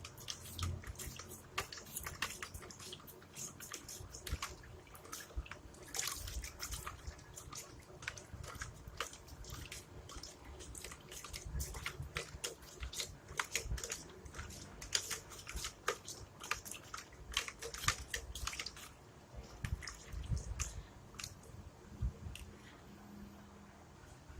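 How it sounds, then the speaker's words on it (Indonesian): AB mix hydroponic nutrient concentrate is stirred into water to dissolve it, making faint watery swishes with frequent small clicks and taps of the stirrer against the container, steady and close throughout. "kita aduk ya teman-teman ya, biar dia larut"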